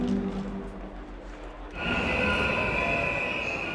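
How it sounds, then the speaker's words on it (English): A train at Zürich Hauptbahnhof starts up: low rumble and hum give way to a rising wash of rail noise with a sustained high squeal from the wheels, close and steady, with no talking. "this train is ready to go on time"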